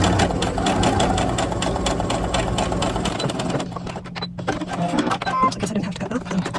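A sewing machine runs a quarter inch seam on an 18-inch doll dress, its fast rhythmic stitching buzz steady and close for about three seconds, then dropping to lighter intermittent whirs and clicks.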